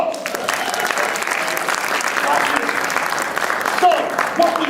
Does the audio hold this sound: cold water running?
no